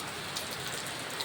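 Rain falls steadily on flowers, mango, banana and jackfruit trees and tulsi plants, a continuous soft hiss of drops with no other sounds.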